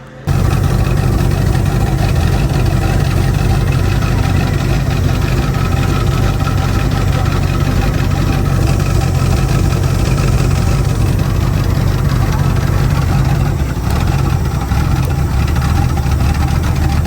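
A boat's 351 V8 engine fitted with a Holley carburetor idles loudly and steadily with a deep, continuous rumble that runs unbroken throughout.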